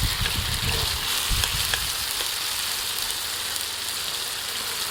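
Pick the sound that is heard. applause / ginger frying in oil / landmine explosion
ginger frying in oil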